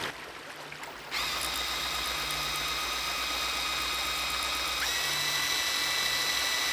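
A cordless drill spins up to drive a small drill pump filling a ram pump with water, a steady whining motor hum with rattling mechanical grind, shifting pitch slightly partway through, close and alone.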